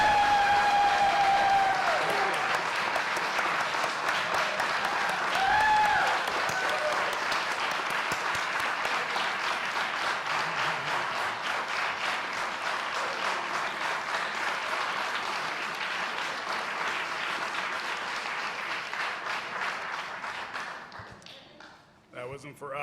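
Sustained applause fills a city commission meeting chamber in Kalamazoo after a roll-call vote, steady and dense for about twenty seconds before tapering off, with some voices mixed in.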